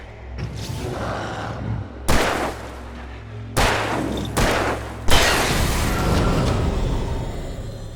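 Four heavy gunshots boom one by one in Alan Wake Remastered, each loud blast trailing off in a long echoing decay over a steady low drone.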